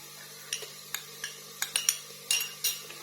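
Metal spoon clinks and scrapes against a pan while ginger-garlic paste is stirred into light-brown frying onions, a series of sharp, close taps in an uneven rhythm, with no talk.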